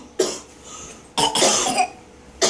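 A child gives three short, forced coughs spaced out over a couple of seconds, close to the listener, with quiet gaps between them.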